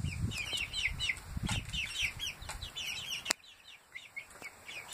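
Silkie chickens cluck and chirp softly outdoors over low rustling, with a few faint wing flaps, before the sounds thin out.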